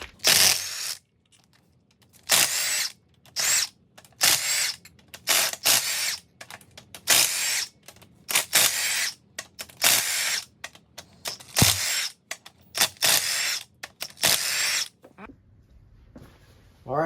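An impact wrench fitted with a poly drive socket works cylinder head bolts loose on an FSI engine with a broken camshaft, firing in repeated short, sharp hammering bursts separated by pauses, close up.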